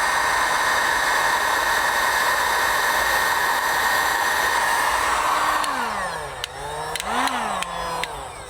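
A heat gun blows a steady, loud, hissing roar of hot air while heating vinyl door skin on a 2019–2025 Toyota RAV4 door. The noise holds constant, then wavers near the end as the air stream shifts and the tool moves.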